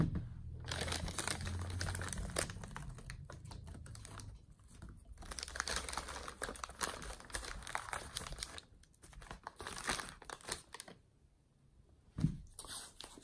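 Paper crinkles and crumples in repeated rustling bursts, close and fairly loud, as it is pressed over a wine glass to mask it before spray painting.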